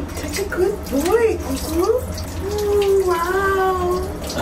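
Water splashes and runs while a small pet is washed by hand, a steady close stream with drips, as voices talk and call out over it.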